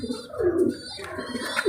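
Young chicks crying for food, a few short, shrill, wavering peeps close by, repeated in quick bursts.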